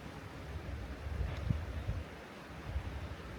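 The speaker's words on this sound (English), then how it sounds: "wind whispering through the pines." Soft, steady wind whooshing through pine trees with gentle rustling, a continuous outdoor hush that swells slightly midway, no talking.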